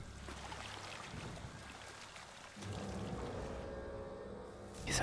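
A Carnotaurus drinks from a river in The Isle with quiet, close lapping and trickling water. The water grows a little fuller midway and ends with a brief louder splash.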